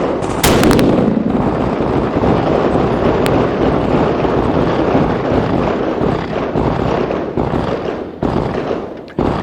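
A gunshot is fired outdoors over a Garmin Xero C1 Pro chronograph, a sharp, loud crack near the start followed by a long, rumbling broadband noise and a faint second snap.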